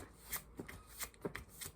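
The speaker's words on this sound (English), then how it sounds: "it's not insanely hard to shuffle." A Visconti Sforza tarot deck is shuffled by hand in a few quiet riffling bursts with soft card flutters, close but faint, without talk.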